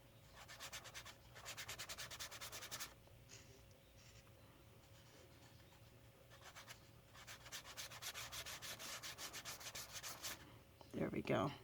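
Acrylic paint rubbed back and forth by finger into an art journal page, giving repeated soft, close scratchy rubbing strokes in bursts with pauses between, ending in a brief louder scuff.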